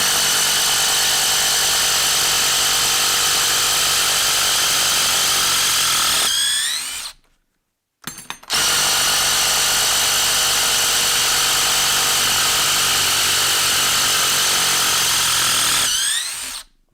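A Dewalt power tool runs at full speed in a test, a loud steady whine that spins down, pauses briefly, then starts again and runs before winding down once more.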